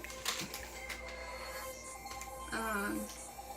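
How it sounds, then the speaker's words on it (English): A phone rings with a warbling electronic tone partway through, mixed with light clicks and background room noise. "We're just going to ignore the fact that my phone is ringing."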